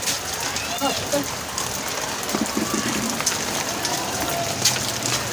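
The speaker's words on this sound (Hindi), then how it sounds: "अभी बहुत ज़्यादा तेज़ बारिश हो रही है" Heavy rain falls while the sun is shining, in a continuous broadband hiss, with scattered drips and patter throughout and faint voices in the background.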